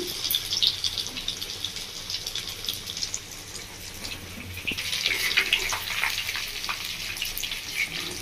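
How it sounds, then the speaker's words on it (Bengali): Chicken for chilli chicken fries in a pan, a soft hissing sizzle with bursts of spattering, steady and close with no one talking. "বন্ধুরা আর একটু ভালো করে ভেজে নেব"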